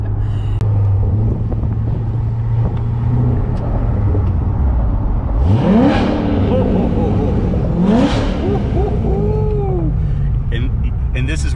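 A Corvette Grand Sport launching hard from a standstill on a road with loose gravel, two sharp rising engine sweeps a couple of seconds apart, loud and close under a man's ongoing speech.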